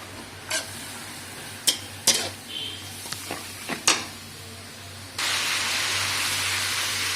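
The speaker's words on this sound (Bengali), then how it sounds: "মশলাটা এরকম করে কষে নিচ্ছি।" Spice paste of cumin and red chilli powder with a splash of water being stirred in a pan over a high gas flame, with a few sharp scraping strokes followed by a steady loud sizzle near the end.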